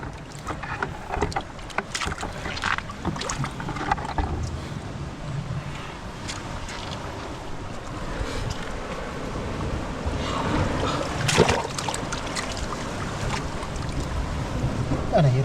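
A small wooden boat moving on open sea water off an abandoned island, with lapping water, wind, knocks against the hull, and occasional voices talking nearby.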